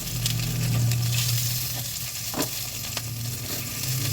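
Hot oil spatters and sizzles steadily in a pan while frying, with a continuous crackling hiss and a few sharper pops standing out, close and fairly loud with no talk.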